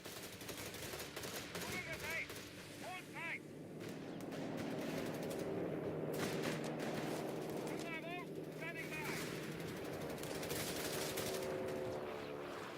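Rapid machine gun fire rattles through a 4v4 Company of Heroes 3 battle, with sustained bursts and distant gunfire layered under in-game voices and battlefield noise.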